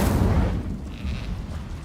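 Incendio fire spell cast in the game Hogwarts Legacy: a loud, dull whooshing boom that bursts at once and fades over the next second, with a softer flare after it.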